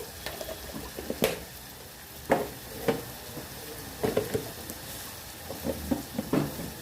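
Sliced onions fry in a pan with cumin and fenugreek powder added, giving a faint, soft sizzle broken by scattered stirring clicks and scrapes. No voices.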